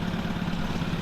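Up close, a Suzuki Katana 750 motorcycle engine idles at around 1,000 RPM after fresh plugs, oil and a new air filter, giving a smooth, even low throb with no misses or sputters over one short second.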